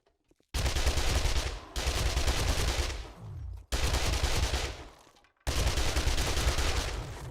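SMG gunfire in 7 Days To Die, four long sustained bursts of rapid automatic fire, loud and close, separated by short pauses.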